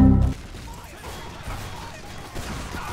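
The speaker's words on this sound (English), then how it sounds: "Oh, he's doing the rocket jump." A rocket jump explosion in Team Fortress 2 opens with a short, loud blast, then gives way to a busy, noisy game mix underneath.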